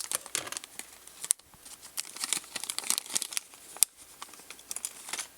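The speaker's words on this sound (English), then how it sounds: "Then in here, I will cut this bag open," A plastic bag of eurorack kit parts being cut open and handled, giving irregular crinkling and rustling with a couple of sharp snips or cracks, close and fairly quiet.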